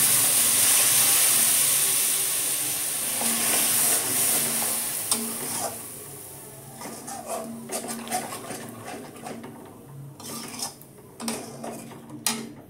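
Ground spice paste sizzles and fries in a pan for butter paneer, with a strong hiss at first that eases off, then stirring scrapes and clinks through the rest, close up with no talking.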